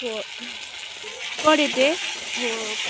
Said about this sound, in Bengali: খুব সুন্দর করে কিন্তু পেঁয়াজটা লাল লাল হয়ে ভেজে যাচ্ছে